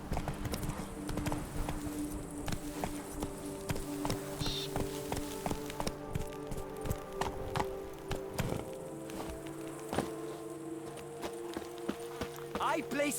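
Roach the horse trots steadily in The Witcher 3, rhythmic hoof clip-clops running throughout under game music and ambient background, with occasional speech.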